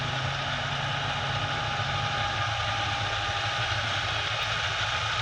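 Tractor engine running steadily in a farm field, a loud, close, continuous diesel drone with a low throbbing rumble and no pauses, with no voices over it.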